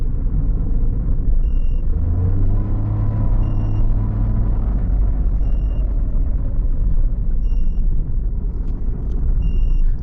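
2020 Toyota Yaris Hybrid three-cylinder car accelerating, a loud steady low rumble of engine and road noise with a rising engine tone partway through and faint periodic beeps overhead.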